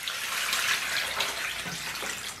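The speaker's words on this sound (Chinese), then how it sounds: "咱们给牛肠稍微来点水" Water running steadily from a tap into a pot of cleaned beef intestines in a kitchen, a close, continuous splashing gush with no speech.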